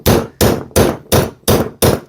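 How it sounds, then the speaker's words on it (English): A claw hammer striking a steel nail punch to drive a nail through trim, six sharp metallic taps at an even, fairly quick pace, close and loud with a short ringing decay after each blow. "So just a few taps on the hammer."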